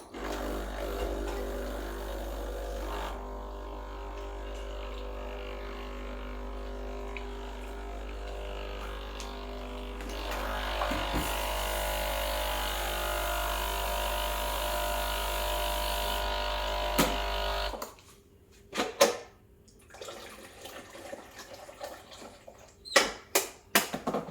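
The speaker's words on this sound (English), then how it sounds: "I like to run a blank shot, so just a shot without any coffee, just to warm up the machine and my cup as well." A Sage Barista Express BES870 espresso machine runs a blank shot without coffee: a steady pump hum and flowing water that cut off abruptly, followed by a few scattered clicks and knocks.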